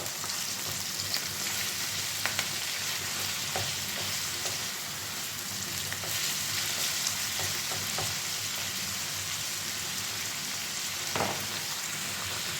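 Food sizzles steadily in a hot pan with garlic in the dish, a constant crackling hiss broken by occasional scraping knocks as a utensil stirs, close and alone without talk.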